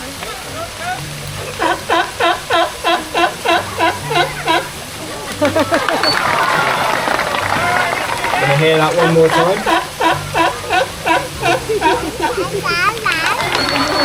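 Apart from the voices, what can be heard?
California sea lion barking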